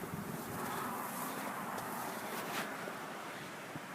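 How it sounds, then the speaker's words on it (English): Wind gusts outdoors beside a small stove built from an ammo can, making a steady broadband roar buffeting the microphone for several seconds, with no voices. "a big giant gust of wind came and it blew the flame out."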